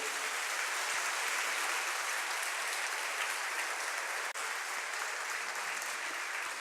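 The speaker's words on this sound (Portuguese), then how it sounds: "dá um aplauso bem lindo ao Senhor." Congregation applause at a worship conference, a steady, bright wash of many hands clapping that holds evenly throughout with no voices standing out.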